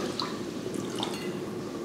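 Water pours from a jug into a pot of rice for cooking, a brief, steady, splashing trickle with a few drips, heard close and moderately quiet.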